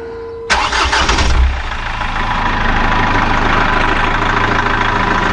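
A Chrysler PT Cruiser with a power steering leak cranks briefly and catches, then settles into a steady, loud, close idle with no talk.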